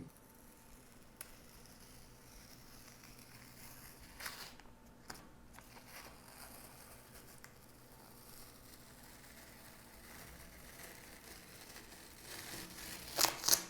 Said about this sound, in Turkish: Bandı çok yavaş bir şekilde sökmek lazım. Yoksa kağıda alabiliyor.